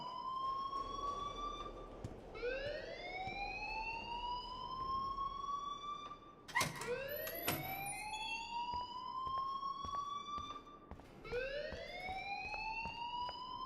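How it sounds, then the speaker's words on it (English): An electronic fire alarm in the video game Life Is Strange whoops with rising tones, repeating about three times in a steady, loud cycle with no talking. "please turn off that alarm"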